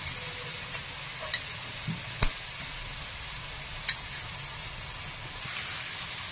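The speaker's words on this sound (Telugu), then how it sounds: "ఈ తిరగమాతలు కొద్దిగా వేసుకొని కాకరకాయ వేసుకునే ముందు వేయించుకోవాలండి" Tempering spices fry in a pan of hot oil for a stuffed small bitter gourd curry, a steady close sizzle with a few faint pops and taps throughout.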